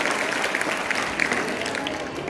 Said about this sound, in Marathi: जोरा टाळ्या वाजवतो विद्यार्थी मित्रांनो